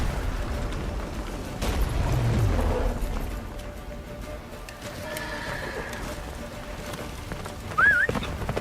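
Roach, a horse in The Witcher 3, gallops in a game scene, with a muffled thudding of hooves, gusty background noise and a short whinny near the end.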